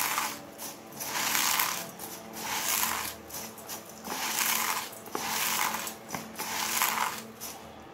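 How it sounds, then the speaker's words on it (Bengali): Hands crush puffed rice in a bowl, giving close, crunchy crackling and rustling that swells in repeated bursts and eases between squeezes. "মুড়িটা হাতে করে আমি বেশ খানিকটা গুঁড়ো করে নিয়েছি"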